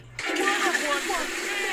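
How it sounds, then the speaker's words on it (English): A toilet flushes close by, a sudden loud rush of swirling water that lasts about a second and a half, with no talking. "Flush one for Fanny."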